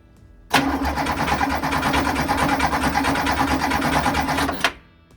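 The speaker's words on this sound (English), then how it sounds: "So when I went to crank up my car" An early Porsche 911 engine cranks on the starter for about four seconds, a loud, steady, rapid churning that stops abruptly without settling into an idle.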